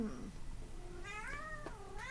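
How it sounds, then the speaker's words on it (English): A domestic cat lets out a drawn-out, wavering meow followed by a shorter second one, both fairly faint over a steady low background hum. "what do you think, Kitty? You think this is karma? Yeah, Kitty agrees"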